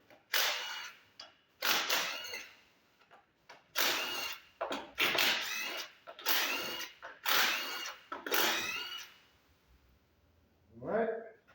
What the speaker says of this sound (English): 15 bolts for the valve cover. Take the valve cover off,